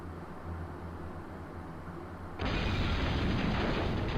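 An iron door blows up in the video game Suikogaiden as a sudden, loud, broad explosion roar that bursts in over low background music and sustains to the end.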